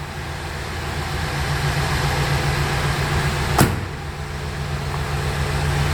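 A 1985 Buick LeSabre Collectors Edition V8 with 20k miles runs with a steady, loud low rumble, most likely in an enclosed space, with one brief sharp click partway through and no clear rise in revs.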